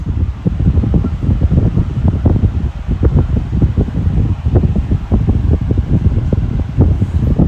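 A 12-inch Air King 9212 high velocity fan, out of balance, runs steadily at full power, its loud whooshing airflow carrying a rapid, uneven thumping pulse throughout.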